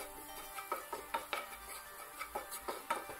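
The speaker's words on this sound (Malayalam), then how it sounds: "ഈ മസാലയുടെ ഒക്കെ ഒന്ന് പച്ചമണം മാറി വരുന്നത് വരെ ഇതുപോലെ വഴറ്റിയെടുക്കുക" A spatula scrapes and taps rhythmically against a pan while masala spices are sautéed for street-style kothu parotta, a quiet, steady series of metallic strokes with no talking.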